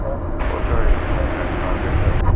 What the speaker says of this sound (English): It's an Airbus A321-200.